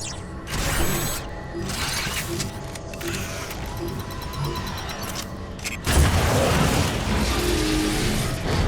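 A machine being activated and infected with dark energon in Transformers: War for Cybertron: loud mechanical whirring and ratcheting gear noise, rising into a heavier rumbling surge, with continuous game sound throughout.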